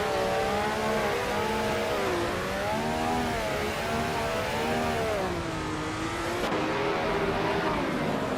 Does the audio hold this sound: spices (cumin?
no